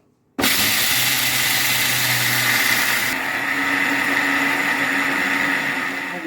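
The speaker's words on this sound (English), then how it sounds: "I'll be blending this till it's very smooth." An electric blender whirs loudly after a sudden start, grinding hand-peeled egusi seeds into a smooth paste, its motor steady and close with a slight change in tone partway through.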